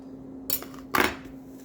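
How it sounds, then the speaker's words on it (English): Ingredients dumped onto a hot cooking surface land in two quick clattering bursts, a lighter clink followed by a louder crash of food and utensil against metal, close by over a steady low hum, with no talk. "So let's go dump all of our ingredients on."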